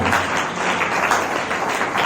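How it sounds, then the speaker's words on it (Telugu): A church congregation at a Sunday service clapping loudly in praise, a dense burst of applause from many hands that carries on without a break, close and full. "చప్పట్లు కూడా దేవునికి స్తోత్రం చెల్లిస్తాడు గట్టిగా"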